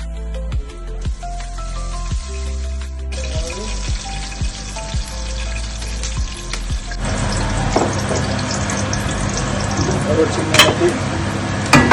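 Prawns frying in coconut oil in a Kerala home kitchen, a steady loud sizzle that swells and grows denser partway through, with soft clatters from the pan over it.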